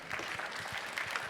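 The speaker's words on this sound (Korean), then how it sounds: "다시 한번 한국자동차연구원 그 임현택 센터장님께 큰 박수를 부탁드리겠습니다" Brief burst of audience applause after a presentation at an AI and mobility conference session, a soft patter of many hands clapping in a hall, moderately quiet and short.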